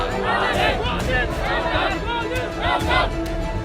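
Angry crowd protesting in a Hyderabad street, a loud, dense roar of many voices shouting and chanting together without a break, close and overwhelming.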